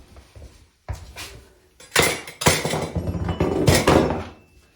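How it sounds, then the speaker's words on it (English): Scraping along a paint line and prying a baseboard off with a pry bar gives sharp metallic clanks, thunks and scraping bursts, close and loud, with no voices. "I'll just scrape along the paint line first and then pry the baseboard off."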